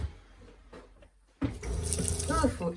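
A tap in a shop bathroom is turned on after a few quiet clunks, and water gushes and splashes into a sink close by while a voice talks over it.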